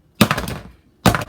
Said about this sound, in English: Alrighty, so now we're going to bang them.